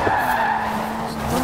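Tires skidding and squealing as a car drifts through a drift section in Forza Horizon 4, played on a Fanatec wheel, with a steady sustained screech and engine drone over the whole stretch, loud and close.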